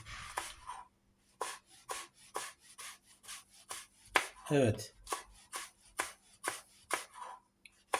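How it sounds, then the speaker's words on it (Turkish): A knife chops food finely on a cutting board for a chickpea dish, a steady series of about a dozen close, crisp strokes, with a brief spoken word partway through. "Bu ince ince doğranacak."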